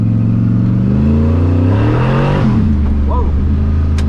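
A 1979 Ford F100 with a 408 stroker engine and stall converter roars hard as its tires break loose, engine note climbing then dropping with squealing scrub on top, loud and close, with an excited voice briefly over it.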